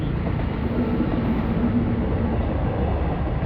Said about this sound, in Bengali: ট্রেন সবে গেল